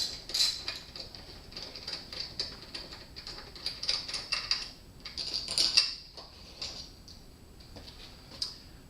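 A ratchet works on a 12 mm bolt on a Suzuki V-Strom 1000, producing soft, quick clicking bursts at close range with short pauses between them and no talking.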